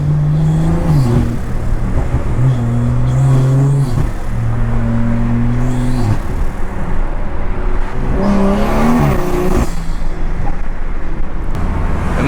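BMW 340i engine revving in repeated bursts, a loud, throaty rise and fall of revs heard several times in close succession with a steady rumble between them.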